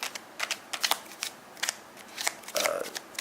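A deck of playing cards is handled during a card trick, with scattered crisp riffling and snapping bursts arriving in short uneven clusters, close and fairly quiet against a still background.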